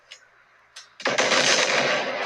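Gunfire in the first-person shooter game Body Cam: two short isolated shots, then a loud sustained burst of rapid fire that continues to the end.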